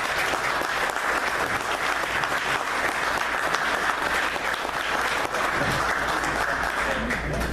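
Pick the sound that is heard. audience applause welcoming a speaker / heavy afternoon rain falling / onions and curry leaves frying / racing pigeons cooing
audience applause welcoming a speaker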